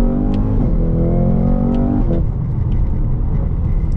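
A 2024 Cadillac CT5-V Blackwing engine revs hard from inside the car, its pitch climbing then dropping at a gear change before settling into a loud, steady drone under way.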